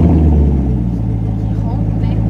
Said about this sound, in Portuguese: vou ligar o carro pra você ouvir o barulho dele, o jeito que é